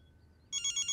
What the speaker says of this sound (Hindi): ओ पुत्र तेरा फोन बज रहा है।